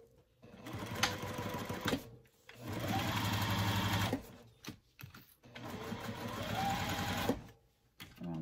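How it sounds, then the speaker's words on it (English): Domestic sewing machine stitching a tote bag in loud mechanical bursts, three long runs of rapid needle chatter separated by short pauses and clicks, close up. "I'm going to sew up the other side"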